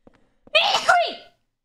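A single close, loud human sneeze bursts out after a couple of faint preceding sounds, then trails off quickly; no talking follows within the clip.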